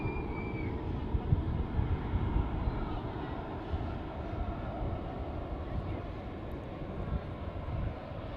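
A Ryanair aircraft at Manchester Airport produces a steady, low, rumbling engine roar heard from a distance, constant and fairly quiet throughout.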